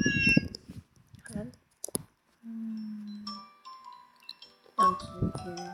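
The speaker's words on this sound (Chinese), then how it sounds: "这个猫叫" A cat meows several times, with short mewing calls and a longer drawn-out low meow, close and clear, between brief bursts of speech and some light chiming sounds.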